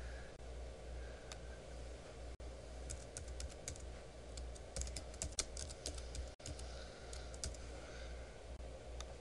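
Someone types on a computer keyboard while entering job card details in Windows software, producing quiet, close clicking keystrokes in uneven bursts over a low steady hum, with no voices.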